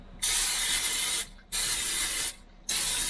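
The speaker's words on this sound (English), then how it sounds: "spray it with olive oil" Olive oil spray bottle hisses in three long bursts separated by brief pauses, close and loud, used to clean a cooking surface inside an ice-fishing shanty on Oahe Reservoir.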